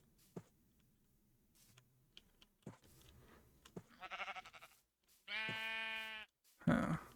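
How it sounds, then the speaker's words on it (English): Minecraft sheep bleat in short game-sound calls, two clear nasal baas near the end after a few quieter bleats, over faint clicks and background game noise. "now let's go grab ourselves some sheeps"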